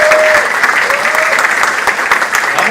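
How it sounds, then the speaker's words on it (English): An audience applauds at a graduation ceremony, dense, steady clapping from a large crowd filling the room. "so huge round of applause for Dave"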